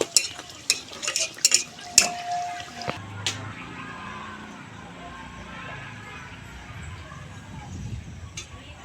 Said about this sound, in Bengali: এইভাবে তেল ছড়িয়ে খুব ভালো করে ভেজে নিতে হবে।